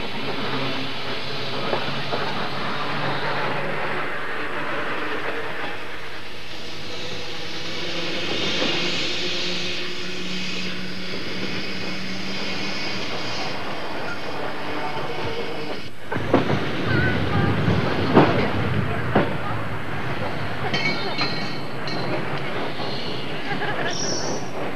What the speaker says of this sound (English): A London tram dating from 1916 has been beautifully restored